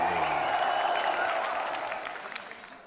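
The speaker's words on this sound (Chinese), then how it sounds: "我们掌声送给来自中国的格斗王子藏族选手斑马多吉。" An audience claps and cheers to welcome a Tibetan fighter, Chinese fighting prince Banma Duoji, to a combat-sports bout against a Ukrainian opponent; steady dense applause that fades slightly toward the end.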